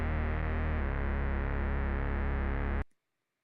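A synthesizer bass patch runs through a filter, playing a steady, thick, buzzy repeating line that sounds loud and alone, then cuts off abruptly near the end.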